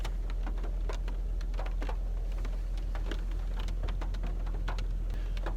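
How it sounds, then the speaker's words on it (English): Rain patters on a 2017 Camaro RS V6, soft irregular drops ticking on the body over a low steady hum from the car, quiet and close with no voices. "So it's raining today."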